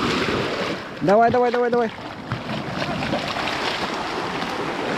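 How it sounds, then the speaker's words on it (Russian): Sea surf washes in at the shore with a steady windy rush that runs under the whole stretch, while a voice repeatedly urges someone on and a brief whistling tone rises over the water early on. "вот здесь сейчас волна пройдет, и ты будешь плыть"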